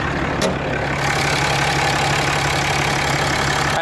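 A 2014 Ram 3500 Tradesman dually's 6.7-liter Cummins turbo diesel inline six idles close by with a steady, rumbling drone that holds even from start to finish, with no talking.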